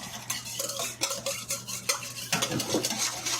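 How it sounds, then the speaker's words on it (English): A yeast mixture whisked vigorously in a bowl, rapid close metallic clatter and scraping strokes in quick irregular bursts, with no one talking. "And then I just aggressively whisk it."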